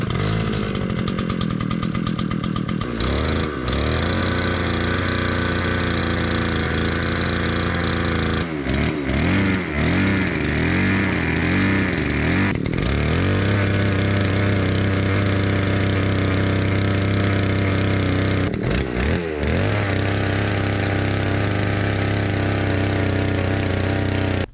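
A gas-powered earth auger bores holes in rocky mountain ground, a loud continuous two-stroke engine drone close by, with repeated pitch drops and surges as the bit bogs down and frees.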